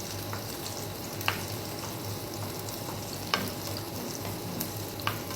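Chili peppers fry in a pan with a constant near sizzle, broken by a few sharp clicks of stirring against the pan; nobody speaks.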